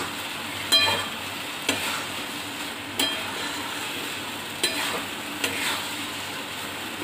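Semolina halwa (sujir halua) being stirred in a pan over medium heat, a soft continuous frying sizzle broken by five sharp scraping clinks of the spoon against the pan at irregular intervals, with no talking.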